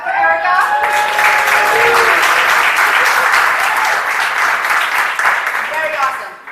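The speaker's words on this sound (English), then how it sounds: "Everybody needs to clap for Erica." An audience claps steadily for Erica at a monthly crypto meetup in Miami, loud and sustained applause filling the room, with voices and a few cheers mixed in near the start and end.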